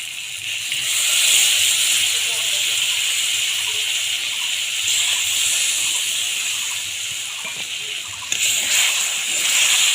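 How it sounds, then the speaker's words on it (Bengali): Water is poured into mustard paste in a hot pan while cooking a tilapia fish curry, making a loud, continuous hissing sizzle with bubbling splashes that stays steady throughout. "একটু জল দেব"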